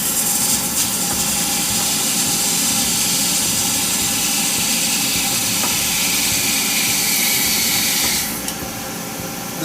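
A wood lathe spinning at about 1446 RPM cuts a cast resin blank for a shaving brush handle. It makes a loud, steady, roaring whir that holds nearly ten seconds and eases slightly near the end.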